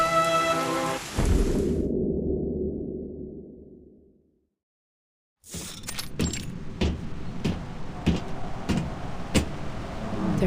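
Heavy rain and a rumbling thunderstorm in the video game Reverse: 1999, a loud wash of downpour that cuts to silence, then returns as dense rain with sharp crackling thunder strikes.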